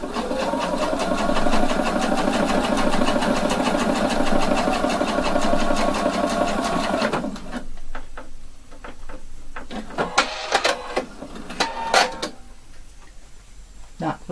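A sewing machine stitches a fabric placket 2 millimetres from the edge with a steady, fast, close mechanical whir for about seven seconds, then stops, leaving clicks and handling sounds while someone speaks.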